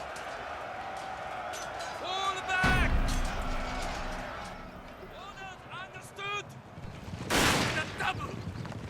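Musket volleys crackle in a Fall of the Samurai battle: a sharp burst of massed rifle fire, then a second heavy volley later, over a busy battlefield bed of scattered shots and shouting troops, with someone talking throughout.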